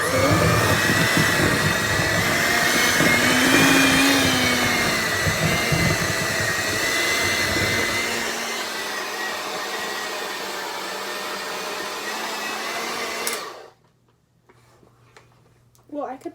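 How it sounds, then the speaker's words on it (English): An electric hand mixer whirs steadily through thick brownie batter for about thirteen seconds, loud and close, then cuts off into near quiet. "I need to upgrade my hand mixer."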